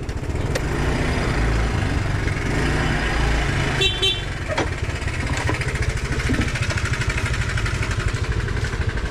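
A motorcycle engine idles close by at a rural farm, a steady rapid putter that continues throughout, with a short horn toot partway through and faint background noise.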